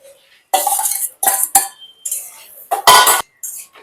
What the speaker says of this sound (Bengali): সমস্ত কচুটাকে ভালো করে মিশিয়ে নিলাম।